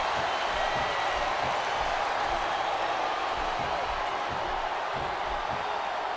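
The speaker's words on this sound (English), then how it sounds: "Sounds like this crowd's got something on their minds, King." A steady, dense wrestling arena crowd roar from the video game WWE SmackDown vs. Raw 2007 fills the whole stretch, a constant wash of many voices and noise with no pauses or distinct speech.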